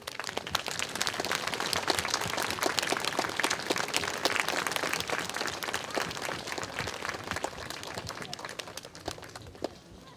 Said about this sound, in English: Let's give him a round of applause and welcome him to our presentation.